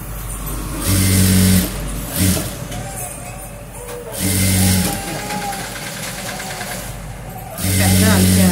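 A sewing machine stitching a folded border strip onto a blouse, running in repeated loud bursts of about a second each with steady hum between them, close up.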